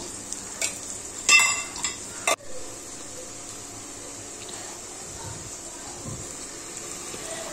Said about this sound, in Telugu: ఆనియన్స్ మొత్తం ఫ్రై అయిపోయాయి. ఇప్పుడే నేను 2 tablespoons నెయ్యిని యాడ్ చేస్తున్నాను.